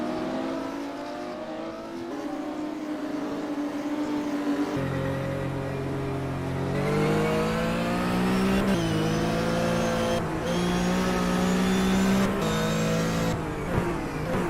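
Several race car engines from a Porsche Cup racing simulator game rev and climb through gears, the harmonic engine whine rising and shifting steadily and loudly throughout, with brief tire noise near the end.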